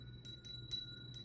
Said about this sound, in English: bear with me while I ring a bell